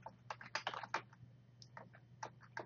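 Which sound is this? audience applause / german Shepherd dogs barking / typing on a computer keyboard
typing on a computer keyboard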